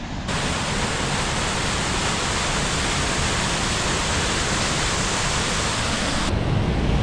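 Loud, steady rushing of flowing water in a Northern Wisconsin state park, a dense unbroken roar like a nearby cascade or stream with no voices.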